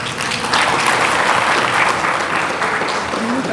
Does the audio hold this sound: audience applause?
yes